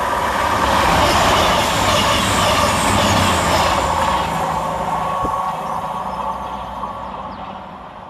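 A CrossCountry Voyager unit, 221130, rumbles through Adwick station on the Plymouth to Edinburgh run, a loud, close roar of engine and wheels that gradually fades as it passes.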